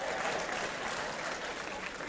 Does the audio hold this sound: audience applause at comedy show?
yes